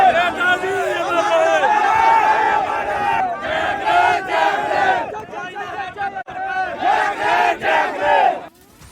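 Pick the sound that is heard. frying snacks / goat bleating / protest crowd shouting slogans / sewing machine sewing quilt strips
protest crowd shouting slogans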